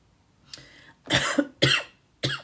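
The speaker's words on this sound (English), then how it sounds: "I've had this cough for about 3 months now." Four harsh coughs in quick succession, close and loud, with a softer throat sound at the start and brief pauses between bursts.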